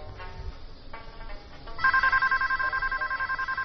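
A telephone rings indoors in a Chinese television drama, giving a steady, repeating electronic trill that starts partway through after some quieter background sound.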